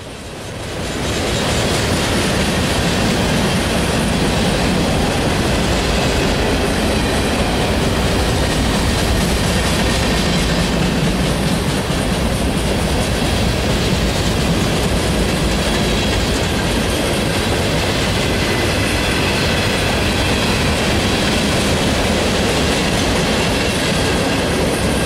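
A westbound manifest freight train led by two Union Pacific locomotives and an NS Evo passes at night, a loud sustained rumble with rhythmic clickety-clack of wagon wheels and faint squeals throughout.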